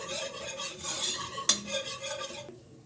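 A spoon stirs a flour roux in a pot for seafood soup, with scraping swirls against the metal, one sharp clink in the middle, and a soft sizzle underneath before it fades.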